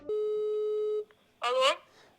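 A telephone ringback tone sounds while calling about renting a Kyiv apartment: one steady, clear electronic tone lasts about a second, then a voice answers briefly after a short gap.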